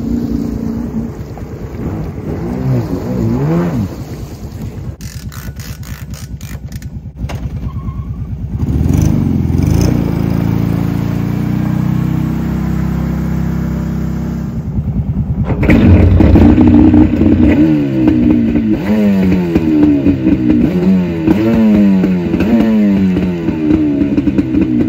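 A Yamaha WaveRunner III jet ski engine, out of the water, revs and sputters in bursts, rising and falling in pitch, loud and close, with a rougher, stronger stretch of revving toward the end.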